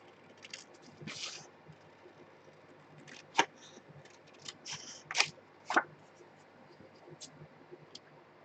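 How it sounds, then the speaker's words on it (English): Scissors cutting out a paper card template along printed black lines, making quiet, close snips and crisp paper rustles in irregular bursts, with several sharper cuts standing out. "I'm going to just like cut right down the center of the black lines and cut this whole thing out."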